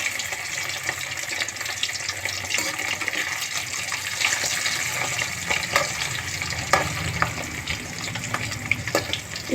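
Potatoes for aloo fry deep fry in hot oil, a dense, continuous bubbling sizzle close up that holds steady throughout, with faint crackles and no talking.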